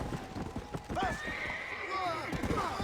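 Horse hooves clip-clopping in Red Dead Redemption: Undead Nightmare, followed by a loud neigh and whinny, with game sounds and a voice talking over it.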